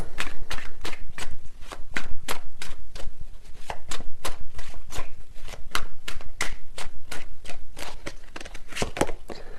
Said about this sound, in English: These cards are flying out.